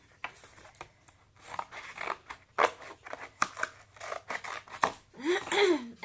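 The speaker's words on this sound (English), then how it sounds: "We'll cut off the flaps so they don't get in the way." Scissors snip off cardboard box flaps while making a yarn doll, a close series of crisp crunching cuts in uneven bursts, with a person speaking briefly near the end.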